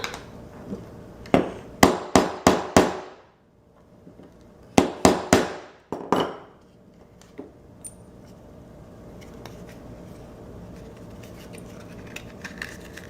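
A hammer strikes a rivet being set for a cosplay piece: two quick bursts of sharp, ringing metallic blows, about five and then four, close and loud, followed by quieter handling noise.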